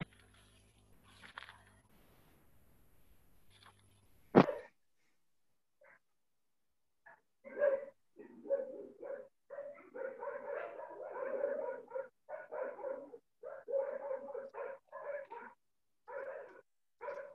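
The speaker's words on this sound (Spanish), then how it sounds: "Se escuchan unos perritos." Small dogs barking over a telephone line, a long burst of rapid, thin yips and barks, fairly faint and muffled, after a few clicks and a short silence.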